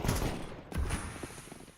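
USP pistol gunfire in a Counter-Strike match, a couple of sharp shots within a dense stretch of game noise, heard up close.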